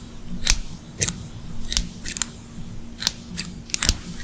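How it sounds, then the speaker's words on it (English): Sharp, crisp snips of scissors cutting paper, about eight separate cuts at an uneven pace, close and clear against a quiet background. "For that I need scissors."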